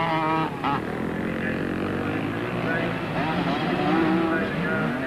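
Yamaha Banshee two-stroke race engines scream through a 1997 Total Super Series race, a dense, continuous wail with shifting pitch as bikes pass, loud throughout and overlaid by a commentator talking.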